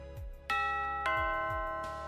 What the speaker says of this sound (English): Multiple doorbell rings, quiet tapping.